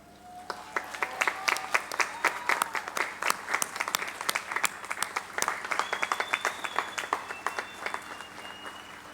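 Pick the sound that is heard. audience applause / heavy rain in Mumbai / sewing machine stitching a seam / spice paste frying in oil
audience applause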